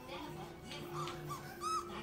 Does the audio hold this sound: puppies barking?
yes